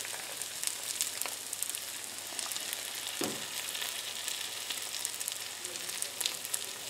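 Potato and ham scramble fries in a pan while it is stirred, with a soft, steady sizzle that holds throughout and a brief scrape of the utensil partway through, fairly quiet and without talk.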